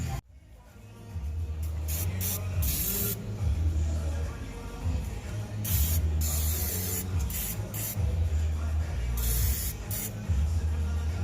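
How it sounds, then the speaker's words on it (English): Aerosol spray hisses in long bursts and short blasts across a car's underside while underseal goes on an R34, loud and close, with a steady low hum of nearby equipment beneath and no talk. "I'll put a bit of spray on it, and then I'm going to put underseal on it as well"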